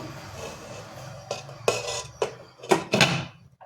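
A metal lid settles onto a cooking pot on the gas for a flourless eggless chocolate cake, with several sharp clanks and clinks of metal on metal, close by and with no talk.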